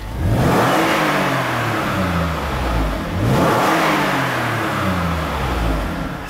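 A 2010 Toyota RAV4 Limited V6 engine revs hard and accelerates twice, each pull rising in pitch before easing off, loud and close with a strong, throaty tone.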